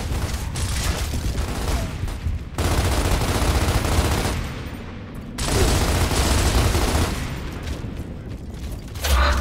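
Gunfire and clanking weapon mechanisms in Gears of War Ultimate Edition on Xbox One, in long, steady volleys broken by two short lulls, fairly loud and continuous throughout.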